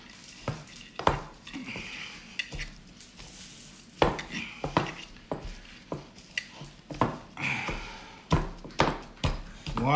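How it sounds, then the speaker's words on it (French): Salad ingredients crushed and mixed by hand in a bowl, repeated squelching, knocking and clattering in an uneven rhythm, close and fairly loud, with occasional dish sounds. "On écrase tout là, toutes les odeurs qui se mélangent"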